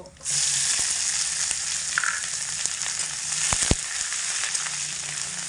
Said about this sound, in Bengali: পেঁয়াজগুলোকে হালকা লাল করে ভেজে নেব